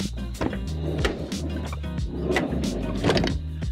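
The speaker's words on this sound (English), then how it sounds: "let me clear this out and open the doors" Doors of a tiny Japanese kei wagon camper van are opened, with a series of close clunks, latch knocks and sliding scrapes in an uneven rhythm over a few seconds.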